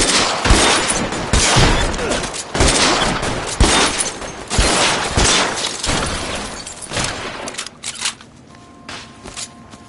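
Gunfire in the LA Noire video game: a rapid, loud fusillade of sharp shots and bursts crackling across several seconds, thinning out toward the end into scattered, quieter reports.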